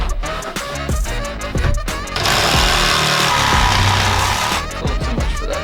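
A loud power tool cuts a table cutout inside an ambulance being converted, giving a harsh, close, continuous grinding roar that starts after a few clattering bursts and runs steadily for about two and a half seconds.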